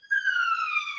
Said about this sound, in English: you probably hear a siren going on in the background.